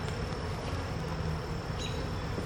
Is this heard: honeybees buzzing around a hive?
yes